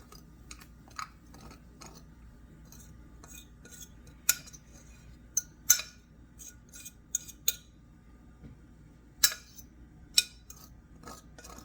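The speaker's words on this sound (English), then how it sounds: "I'm taking it out of the pot now." A utensil clinks and scrapes against a pot several times in sharp, scattered taps as cooked jasmine rice is scooped out, with quieter rustling between the clinks.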